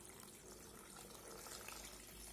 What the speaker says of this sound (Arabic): دابا نخوي عليه الماء